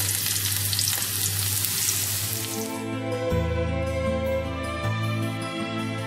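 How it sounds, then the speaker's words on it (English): Garlic and chili frying in hot oil for stir-fried noodles: a loud, steady sizzle up close, with a sustained background tone joining partway through and no speech. "Bring some oil, drop in the garlic"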